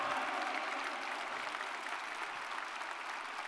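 A church congregation applauds during a Sunday service, producing a soft, steady wash of clapping that sounds somewhat distant and holds evenly throughout.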